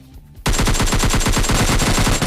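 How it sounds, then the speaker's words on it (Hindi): Rapid automatic gunfire bursts out after a brief quiet moment in a battle royale video game firefight, a loud, close, steady stream of shots with no talking. "साइड से ठाई ठाई वाली शॉटगन पड़ती है मेरे"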